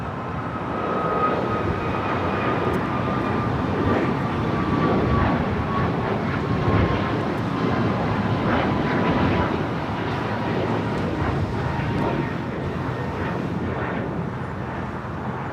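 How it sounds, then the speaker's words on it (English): A Boeing 737 MAX 8 jet takes off at LAX with a loud, sustained roar of engine noise that holds steady throughout, heard from nearby without any talking. "It's a 737 MAX 8 now taking off."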